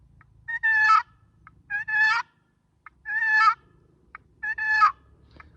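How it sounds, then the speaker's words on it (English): A wooden box call scraped to make turkey yelps, four quick bursts of raspy high-to-low notes, each a short run of clucking yelps, close and clear with silence between them. "So when this lid crosses, it goes from your high to your low, which makes the turkey yelp."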